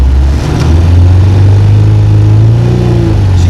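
A retro Iveco Daily van engine revs slightly from idle, a loud, close low rumble that rises gently in pitch with a strong vibrating drone, no voices.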